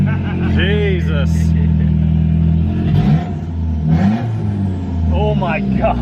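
Saab 9-5 wagon running a full straight-pipe exhaust, its engine roaring loud and close with a steady low drone, flaring in revs around the middle, while people exclaim over it.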